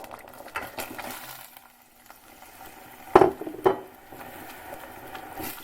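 A pot of liquid comes up to a boil, with a low steady bubbling and hiss, broken near the end by two clear metallic clanks of a utensil against the pot.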